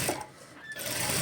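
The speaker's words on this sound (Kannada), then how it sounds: "ಈ ರೀತಿ ನಾನು ಪೈಪಿಂಗನ್ನು ಸ್ಟಿಚ್ ಮಾಡ್ಕೊಳ್ತೀನಿ" A sewing machine stitches piping onto a blouse sleeve, running as a steady, close, continuous mechanical whir for just over a second.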